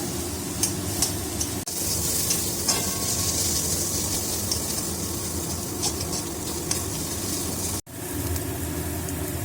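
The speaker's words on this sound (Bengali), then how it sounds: "এবার আমি পেঁয়াজটাকে 15 থেকে 20 মিনিট পর্যন্ত ফ্রাই করে নেব" Sliced onions fry steadily in oil in a pan for chicken butter masala, giving a continuous close hiss and crackle with scattered pops, briefly cut off near the end.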